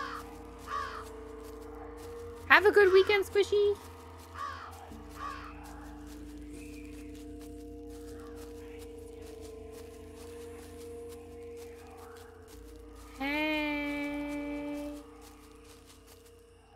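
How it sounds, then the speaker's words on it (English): Crows caw in the video game Jenny LeClue, a burst of several harsh caws early on, then a sustained horn-like cry later, set over a quiet ambient music bed, with a brief spoken line from a character. "Damn bourgeoisie crows again."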